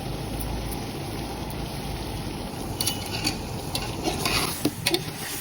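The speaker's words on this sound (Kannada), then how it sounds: "ಇವಾಗ ರುಬ್ಬಿರೋ ಮಸಾಲ ಹಾಕ್ತಾ ಇದ್ದೀನಿ" Freshly ground masala sizzling in a pan for donne biryani, a continuous dense frying hiss with occasional spoon scrapes and clicks toward the end, close and steady.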